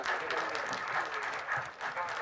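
An audience at a Tamil film audio launch claps steadily to welcome the chief guest onto the stage, a continuous, fairly faint wash of applause heard under a presenter's amplified voice.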